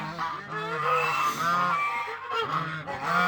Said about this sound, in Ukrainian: кубанські гуси чорні